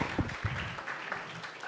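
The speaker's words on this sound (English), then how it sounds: "Can we give a round of applause to Alohi?" A symposium audience gives a brief round of applause, a short burst of clapping from a room of people, fairly muffled and ending quickly.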